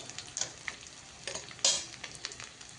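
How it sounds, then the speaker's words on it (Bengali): Fish frying crisp in a pan: gentle sizzling with scattered pops and ticks, one sharper crackle standing out, at a low steady level with no voices. "এইদিকে দেখো মাছ ভাজাটা হচ্ছিল"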